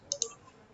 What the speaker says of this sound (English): So therefore I'll right click on this module.